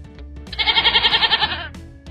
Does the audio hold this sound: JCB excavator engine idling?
no